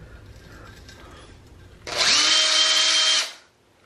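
A power drill spins up abruptly to a steady high whine for about a second and a half while lapping a rifle barrel crown with grinding compound, then winds down, with a faint rubbing grind beforehand.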